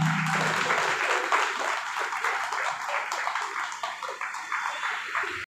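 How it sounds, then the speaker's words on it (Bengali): An audience in Sonarpur claps to welcome a municipal official: sustained, dense applause of many hands at even volume for several seconds, then a sudden stop. "সকলে একটু করতালির মাধ্যমে অভিনন্দন জানাবেন।"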